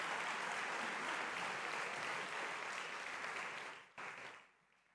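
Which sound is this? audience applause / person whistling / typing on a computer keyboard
audience applause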